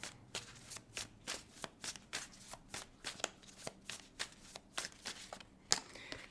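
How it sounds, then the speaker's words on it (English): Tarot cards shuffled and flipped at close range, a steady series of crisp riffling snaps and slaps in an uneven rhythm, quiet and alone with no talking. "Cards are flipping."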